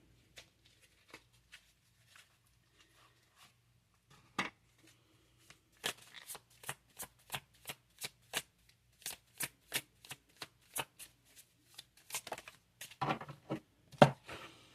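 Moonology oracle cards being shuffled by hand, a few soft taps at first, then a fast run of crisp, close riffling snaps in quick rhythmic bursts, quiet and without talking.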